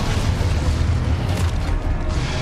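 A Confringo explosive spell in Hogwarts Legacy sets off a loud, dense, low rumbling boom that fills the whole moment, with no speech over it.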